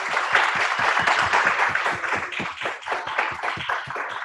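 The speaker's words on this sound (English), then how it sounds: "can we give him a round of applause for everything we've done?" Applause at an Atlanta panel discussion on mental health, where a smaller audience claps with individual hand claps clearly audible in a quick, uneven rhythm over several seconds.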